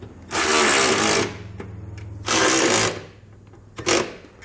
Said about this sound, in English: And now we can go back and tighten down both our brackets.